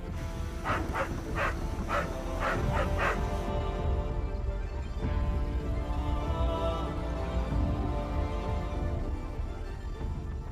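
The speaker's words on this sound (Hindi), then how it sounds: "यहाँ तक कि कुत्ते भी बदल बदल कर पहरा दे रहे थे।" Dogs barking in a dramatic film scene, several sharp barks in a quick cluster at the start, then a loud steady background rumble with no further barks.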